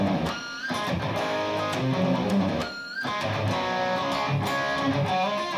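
A distorted electric guitar plays the full riff, fast and dense with choppy accented notes, brief pauses and one short break near the middle, loud and without talking.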